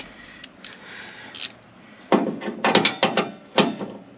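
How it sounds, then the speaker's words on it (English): A ratchet wrench removes the inside track bolts from a 1968 Pontiac Firebird door, making bursts of quick clicking from close by, first sparse, then denser in short repeated runs, with no talk. "Take off the two inside track bolts."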